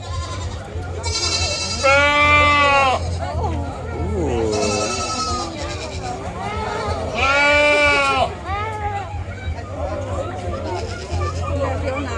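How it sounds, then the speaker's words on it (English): Baby goats in a livestock pen at the OC Fair bleat loudly and close by in three or four wavering calls, with a crowd chattering and people talking around them. "little baby goats"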